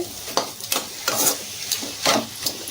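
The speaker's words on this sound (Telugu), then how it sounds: "రొయ్యలకి మసాలా అంతా పట్టేటట్టుగా కారం, ఉప్పు, కారం అన్నీ పట్టేటట్టుగా కలుపుకోవాలి." Prawns with chilli, salt and masala are stirred in a sizzling pan, with several distinct spoon scrapes in an uneven rhythm, close and clear.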